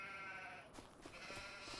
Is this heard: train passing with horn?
no